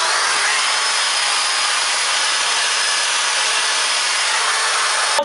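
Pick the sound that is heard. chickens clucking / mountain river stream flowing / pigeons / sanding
sanding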